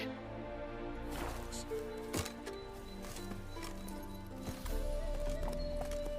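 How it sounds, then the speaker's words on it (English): Horse hooves clip-clop at a steady walking rhythm during a ride in the video game The Witcher III, with occasional louder thuds and game ambience underneath. "I might as well go by horseback."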